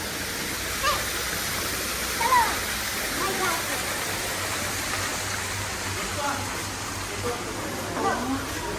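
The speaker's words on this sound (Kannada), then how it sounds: "ಈ ನೀರು ಹರಿತಿತ್ತು ಗೊತ್ತಾ ಎಂಟ್ರಿ ಆದಾಗ" Water flows steadily at the entrance of an aquarium, a continuous rushing wash that fills the space, with faint voices talking in the background.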